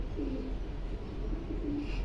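Soft, low pigeon coos sound a few times at a distance over a dull, steady background rumble.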